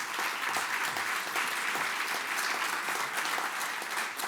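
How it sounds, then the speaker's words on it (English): A dense, continuous round of applause from an audience at an annual meeting and legacy celebration, steady and full throughout with no voices standing out. "Let's give him another round of applause."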